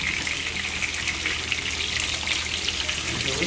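Trout fillets sear in a hot pan with a steady, close, even sizzle and spit, and faint scraping as a spatula and spoon turn the delicate fish over.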